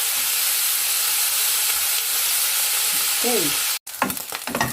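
Pork belly frying and browning in a pan, a steady broadband sizzle with stirring that runs for several seconds, then a brief cut before scraping and a spoken word near the end.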